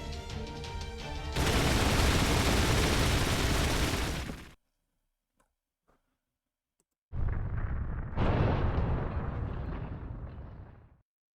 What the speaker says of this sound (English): even I will have difficulty deflecting all of this gunfire